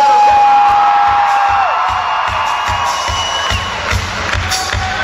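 Crowd at a rock concert cheering, whooping and yelling, a loud sustained roar with a whistle near the start and rhythmic thumps underneath, building before the band plays.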